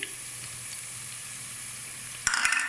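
Spices hit hot oil in a pan while cooking Lahori chana masala, giving a steady close sizzle that flares into a louder, crackling burst near the end as they go in.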